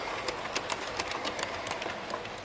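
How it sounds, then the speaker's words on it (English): A long model train of 63 cars pulled by three GP40 locomotives runs around a 10-foot diameter loop, giving a steady rolling rumble with a rapid, even clickety-clack of wheels over rail joints throughout. "Here's the 63 car train coming around once again on the loop back on my 270 degree 10-foot diameter loop back here."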